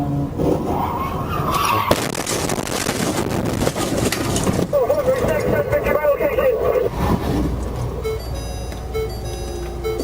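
A semi-truck ploughs at high speed into a patrol car and a stopped semi on the highway shoulder, a loud roar of skidding tires and crunching impact with radio chatter and voices over it.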